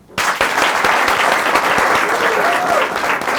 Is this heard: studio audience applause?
yes